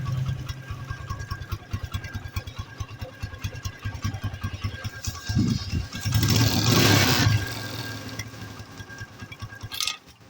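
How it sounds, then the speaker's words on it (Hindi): A TVS Apache RTR 160 motorcycle engine idles after starting, following engine fitting work; a steady close chugging idle throbs throughout, swelling briefly with a louder rev burst in the middle before settling back to idle. "अब मैं इसके इंजन के साउंड सुनाता हूँ।"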